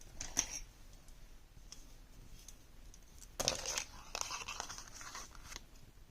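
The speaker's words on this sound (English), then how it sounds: "So let me get some scissors." Scissors cut through paper cardstock while trimming an overhang along a score line on a handmade card, giving a few soft, close snips and rustles, including a sharper cluster about midway through, with no talking.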